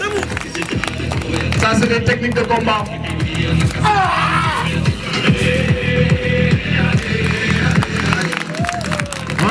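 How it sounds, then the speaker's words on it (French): A crowd applauds bodyguard graduates at an outdoor diploma ceremony in Dagana, with loud continuous clapping and rhythmic thumping beats, shouts and cheers over it, and someone speaking over the noise. "Applaudissez très fort."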